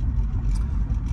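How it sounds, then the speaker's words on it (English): A 2007 Acura TL with about 200K miles, driving on city streets, gives off a steady low engine and road rumble that stays even and close throughout. "But man, this car's moving pretty good."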